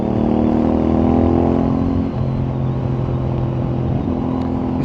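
A CFMOTO 450NK motorcycle engine droning while riding on the road, a loud steady hum that shifts pitch with a gear change midway, accompanied by wind rush, no talking.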